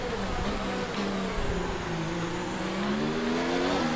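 An F1 race car in the F1 2019 game on the Singapore Grand Prix circuit brakes late, a loud close engine whine dropping steadily in pitch as it slows, with a faint tyre squeal and no voices.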